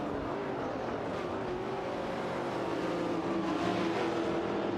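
Several racing cars roar continuously in an AI-driven video game race, including Chevrolet Chevy Nova SS and Shelby GT350 models, with dense, steady engine drone and rising whine, loud and close throughout.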